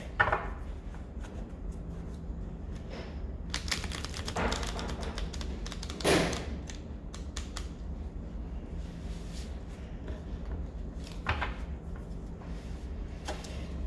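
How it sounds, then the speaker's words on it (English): Close, crisp riffling and flicking of cards comes in several bursts with taps and soft pauses between, no talking. "Okay, one more shuffle, and then we'll clear the deck."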